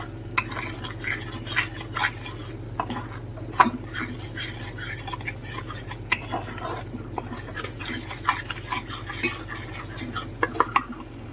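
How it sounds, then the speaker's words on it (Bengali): Spice paste for an egg curry is stirred and fried in a pan, with a steady sizzle under frequent close scrapes and clinks of the spoon against the pan, no talk. "এবার আমি কষাবো মশলাটাকে"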